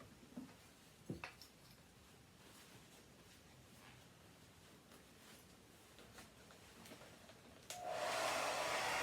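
A hair dryer blows on silver-leaf gilding on a piece of furniture. After quiet handling rustles and a few soft knocks, it switches on loud and close and roars steadily to the end.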